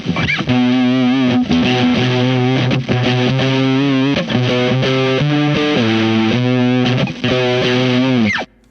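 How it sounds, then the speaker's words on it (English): A loud, distorted synth line through an IK Multimedia X-Drive bit crusher with filter, gritty, crunchy digital degradation, playing steady sustained notes that shift in pitch, with no voices. "that's that bit crusher with that filter"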